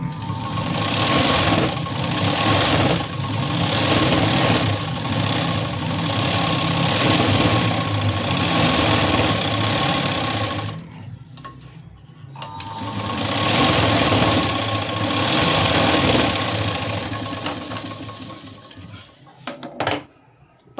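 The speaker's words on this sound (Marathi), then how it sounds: "एकदम कडेकडेने सर्व बाजूने आपण शिलाई देऊन घेणार आहे" A sewing machine stitches a work-garment sleeve, running loud and steady for about ten seconds, pausing briefly, then running again before stopping.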